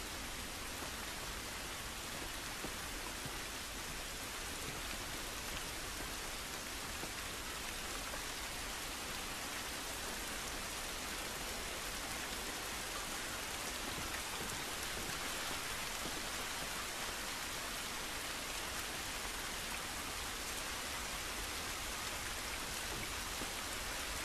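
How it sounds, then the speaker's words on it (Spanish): Steady, even rain hisses across surfaces in The Last of Us game, a dense wash of drops at moderate level that runs unbroken throughout without any voices. "Lluvia no nos va a ayudar."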